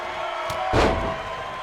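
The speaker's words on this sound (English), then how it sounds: "But those clotheslines still raining down from Kenji Kobayashi." A single heavy body slam lands in the WWE 2K19 wrestling video game, a loud broadband thud that rings out briefly over steady arena crowd noise.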